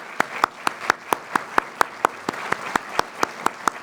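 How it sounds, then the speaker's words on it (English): A graduation audience gives a round of applause, a steady run of sharp, evenly spaced claps about every quarter second, loud and close, with no talk over it. "Let's give him another round of applause, please"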